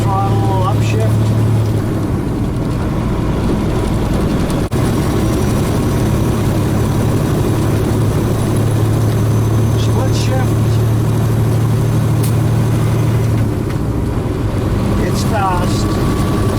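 A truck with a 13-speed transmission drones under full throttle through an upshift, the engine note holding steady and loud, briefly dipping and resuming, while someone talks over it.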